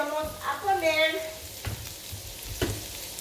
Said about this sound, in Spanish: la pones a freír con aceite